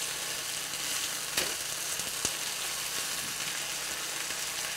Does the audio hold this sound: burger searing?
yes